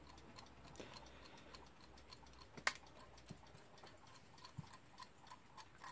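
A clock ticks steadily, quiet and close, with evenly spaced clicks and one sharper knock midway, alone without talk.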